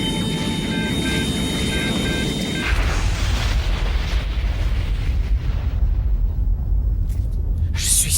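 A loud explosion-like boom hits at about three seconds, cutting off a steady electronic tone and hum and leaving a sustained low roar that rumbles on to the end.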